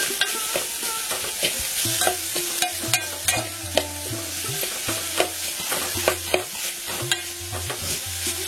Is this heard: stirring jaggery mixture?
yes